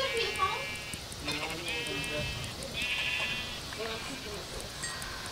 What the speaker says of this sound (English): There's a lot of sheep over here too.